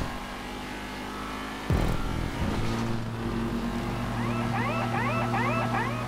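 Race car in GTA 5 Online braking into a turn then accelerating out, a loud engine drone that cuts abruptly, rebuilds, and climbs with warbling revs.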